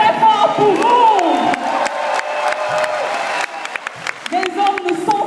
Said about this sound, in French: Applaudissez très très fort pour vous.